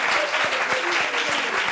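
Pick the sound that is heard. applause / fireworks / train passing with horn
applause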